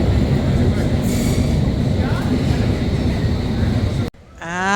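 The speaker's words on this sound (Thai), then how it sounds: "เขาต้องนั่งรถไฟใต้ดินจ้ะ" Loud, steady rumble of a London Underground train running through a tunnel, broadband roar throughout, then cutting off abruptly near the end as a voice begins.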